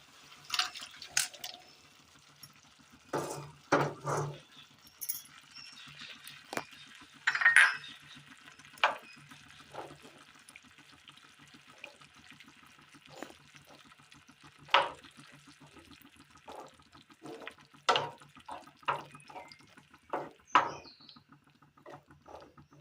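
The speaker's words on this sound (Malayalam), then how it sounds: "ഈ സമയം നമ്മൾ വേവിച്ച് വെച്ചിരിക്കുന്ന കോളിഫ്ലവറും വെന്ത വെള്ളവും കൂടി ഒഴിച്ചു കൊടുക്കാം" Cooked cauliflower and its cooking water splash and pour into a curry pot in scattered bursts, with clinks and stirring scrapes between them, close by and fairly quiet.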